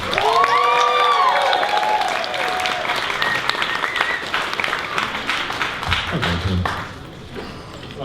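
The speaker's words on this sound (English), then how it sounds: "Give another round of applause for him." Audience round of applause at an informal comedy and music variety night, loud sustained clapping with scattered cheers that gradually thins out, preceded by a few ringing tones at the start.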